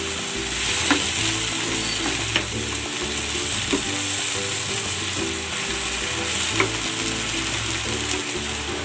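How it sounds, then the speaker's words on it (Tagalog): Syrup from canned apple tidbits goes into a pan of simmering chicken, giving a steady bubbling sizzle with occasional clicks and knocks of utensils, close and fairly loud, with no talking. "At ilalagay ko na dito ito yung sabaw ng apple tidbits"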